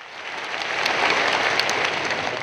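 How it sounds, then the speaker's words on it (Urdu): An indoor audience at a formal event breaks into applause, a dense wash of clapping that swells and holds steady for a couple of seconds with no voices over it. "آپ کی بھرپور تالیوں میں"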